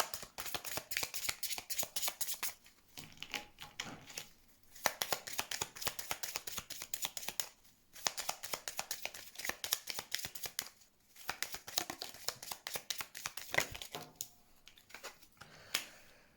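Tarot cards shuffled by hand during a reading, a dense run of quick papery riffles and flicks in bursts with short pauses, close and fairly quiet.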